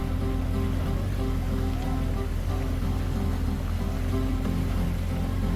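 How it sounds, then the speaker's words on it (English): Boat travelling on a river near Poovar at dusk, a constant loud engine drone with water rush and wind noise running unbroken throughout. "We got into the boat and started our journey back."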